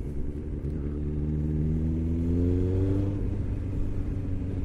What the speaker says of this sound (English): Testing the engine a bit.